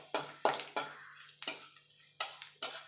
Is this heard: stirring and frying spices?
yes